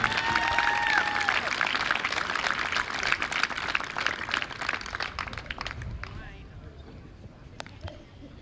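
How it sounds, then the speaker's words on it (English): Applause from a crowd at a high school baseball game for senior players, a dense clapping that holds steady and then thins out toward the end. "how about one more big round of applause for the 2023 senior baseball players"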